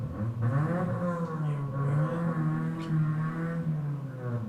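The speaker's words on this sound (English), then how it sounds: "there's a motorcycle outside apparently." A motorcycle revs outside on a nearby road late at night, a sustained engine drone that rises and falls in pitch, moderately loud and heard from indoors.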